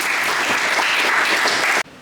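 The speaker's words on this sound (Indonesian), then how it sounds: "Tepuk tangan dulu untuk teman kita nih." Classmates in a classroom give a student a round of clapping, dense and steady for nearly two seconds before cutting off abruptly.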